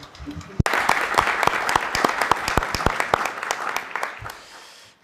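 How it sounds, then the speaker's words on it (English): A crowd applauds steadily for several seconds at an Organization of American States meeting welcoming a new ambassador, the clapping dense and close before tapering off at the end. "I would ask everyone to applaud our new ambassador and welcome her."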